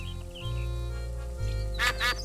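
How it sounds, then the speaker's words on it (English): Two quick duck quacks from the video game Escape From Monkey Island sound near the end, over a low droning game soundtrack. "I hear ducks, and that makes me suspicious."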